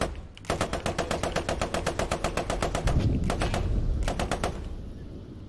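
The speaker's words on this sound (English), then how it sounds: "Keep firing in the hedgerow." Rapid bursts of machine gun fire from a Firefly tank's gun in the World War II shooter Post Scriptum, loud and close, in long strings of evenly spaced shots with brief pauses, under heavy background combat noise.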